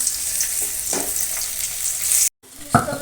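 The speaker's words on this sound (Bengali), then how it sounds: "লাল করেই বেশ ভেজে নিয়েছি এবার তুলে নিচ্ছি" Potatoes sizzle steadily in hot oil in a wok, a soft continuous frying hiss with a few stirring scrapes, briefly cut to silence before the sizzle resumes.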